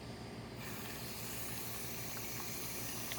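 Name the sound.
water flowing from opened Flush King nozzle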